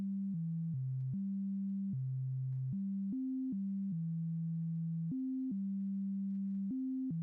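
A Voltage Modular synthesizer plays a plain, pure tone, stepped up an octave, as a sequence of short stepped notes moving between a few pitches, steady in level with no talk.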